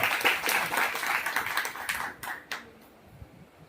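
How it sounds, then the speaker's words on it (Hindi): Applause from an audience at a municipal council celebration of Gandhi and Shastri Jayanti in Marhara, a short burst of clapping that thins out into a few scattered claps. "तालियां"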